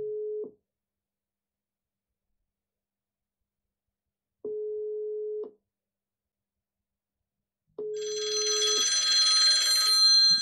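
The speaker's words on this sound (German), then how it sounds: "auch hier geht der Ruf ein" A phone line rings with an incoming call routed through a Sipgate trunk on a FreePBX/Asterisk system. Three clean, evenly spaced ringback tones play against silence, and a hiss of noise follows the last one.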